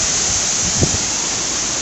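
Bhelughat Waterfall in Karbi Anglong sends down a loud, constant roar of falling water, close by and unbroken, with one brief soft knock partway through and no voices.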